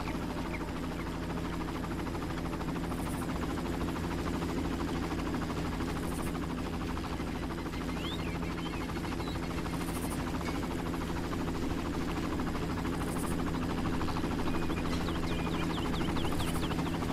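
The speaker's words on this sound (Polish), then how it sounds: "Czy ten helikopter poleciał sobie?" A helicopter in the Far Cry video game makes a continuous, fairly loud engine and rotor hum that holds steady for the whole span, with no speech over it.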